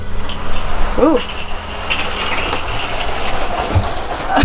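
Water pump in a Bailey Phoenix 640 caravan running with the taps open, giving a steady loud rush of flowing water throughout, with one brief voiced exclamation.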